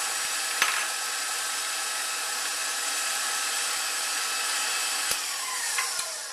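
An electric mixer beats eggs into cupcake batter, a steady close whirring drone held throughout with a few sharp knocks of the beaters against the bowl.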